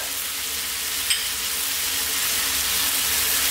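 Spicy goat heart fries in a hot pan with pepper, soy sauce and oyster sauce, giving a continuous, even hiss of sizzling oil with one brief stirring clink, close and steady.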